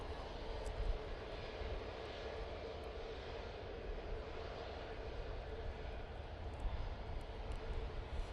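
A Jet2 airliner departs Manchester Airport bound for Paphos, its engines a steady distant roar under windy outdoor conditions, even in loudness throughout, with no clear speech.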